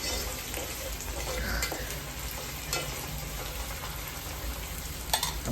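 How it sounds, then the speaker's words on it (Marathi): Tomatoes sizzle and crackle steadily in a hot frying pan for an Agri-Koli style umbar (fig) vegetable dish, a continuous close, fairly loud hiss with occasional stirring scrapes and pops, no talking. "टोमॅटो टाकायला मस्तपैकी बघा कसा आवाज येत आहे"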